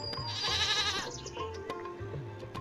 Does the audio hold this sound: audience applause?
no